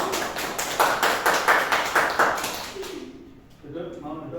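Students in a classroom give a round of applause, a burst of clapping lasting about three seconds before it fades, followed by a teacher's voice speaking.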